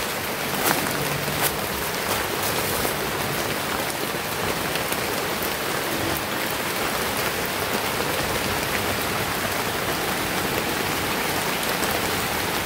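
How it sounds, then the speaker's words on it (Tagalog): Heavy rain pours steadily onto leaves along a remote rural road, a dense, unbroken hiss of drops that holds constant for the whole stretch with no talking. "Lumakas yung ulan mga idol."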